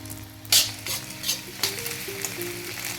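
Beaten egg fries in a pan for basmati egg fried rice, a bright close sizzle with a few sharp spatula scrapes and clinks over a faint steady hum.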